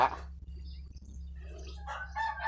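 Chickens and chicks on a rural home farm with a kitchen garden, with a burst of clucking and crowing calls at the start and busier chirping and clucking toward the end over a steady low hum.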